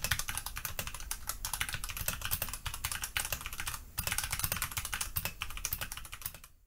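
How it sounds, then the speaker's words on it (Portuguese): Fast typing on a budget mechanical keyboard with Zotemu switches, a dense run of close clicky keystrokes with a brief pause near the middle before the rapid clatter resumes. "vou só mostrar um pequeno sound test do Zotemu neste teclado."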